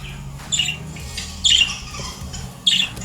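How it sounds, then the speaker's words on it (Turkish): Three short, bright electronic male bird chirps from a toy at regular intervals, each a quick high squawk, with a low hum underneath. "bu sefer de erkek kuş sesi açalım"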